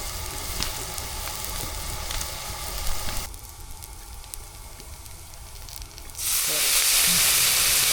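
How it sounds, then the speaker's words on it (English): Onion sautéing slowly in a pan for a grilled meal: a continuous close sizzle and frying hiss with small crackles, briefly softer in the middle and then rising to a louder, brighter sizzle at the end. "Start just by cooking up an onion nice and slow so we get a good saute."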